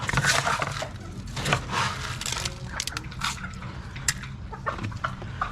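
Pullets cluck and scratch around a feeding pan in a chicken pen, a busy, close mix of soft clucks, pecks and rustling with no talking.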